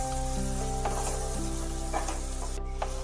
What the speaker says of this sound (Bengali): দিয়ে এর মধ্যে ভালোভাবে একটু নাড়াচাড়া করে নিতে হবে